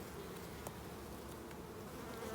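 Dense, steady buzzing of honeybees, including workers and drones, around an open apiary hive frame, close and continuous with no talk.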